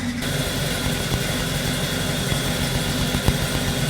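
A Ford 200 inline six engine with multi-port fuel injection idles during warm-up, running a little rich, with a steady close mechanical rumble and a few small ticks, with no talking.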